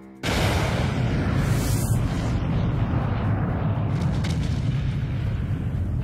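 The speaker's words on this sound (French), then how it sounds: "Sans signe avant-coureur, une terrible explosion coupe le navire en deux." The USS Maine battleship exploding in Havana harbor, rendered as a massive sustained roaring blast with deep rumble and crackling debris, loud and continuous for several seconds with no voices.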